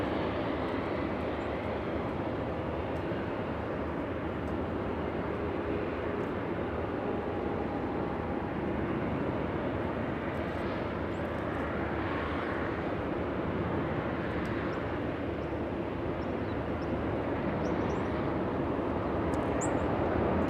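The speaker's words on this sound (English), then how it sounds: "Let's go to the big A330neo." A big Airbus A330neo airliner from Japan at LAX makes a continuous, moderately distant jet rumble that rises and falls slowly over about twenty seconds, with no talking.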